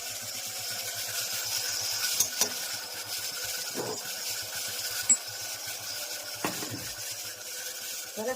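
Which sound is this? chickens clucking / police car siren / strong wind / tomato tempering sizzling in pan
tomato tempering sizzling in pan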